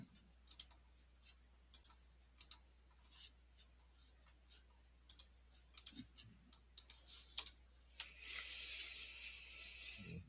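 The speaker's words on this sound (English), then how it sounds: "I can hear those keyboards typing." Computer keyboard typing heard faintly in a quiet room, as sparse short bursts of clicks with pauses between them, followed by a soft steady hiss near the end.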